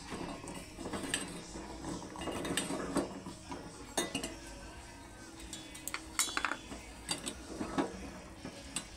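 Gavvalu, small wheat-flour shells, being stirred into melted jaggery in a pan, with a steady run of scraping, clinking utensil-on-pan sounds and soft knocks throughout, close up and moderately quiet.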